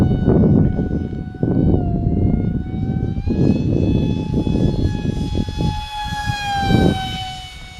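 An FT Vector RC airplane on its maiden flight drones overhead, a loud electric motor whine that rises in pitch and holds steady as it passes, with outdoor breeze beneath.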